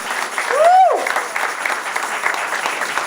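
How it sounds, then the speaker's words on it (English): An audience at a climate action gathering in New Jersey applauds volunteers, a steady wash of clapping throughout, with a brief whooping cheer rising near the start. "Give them a round of applause."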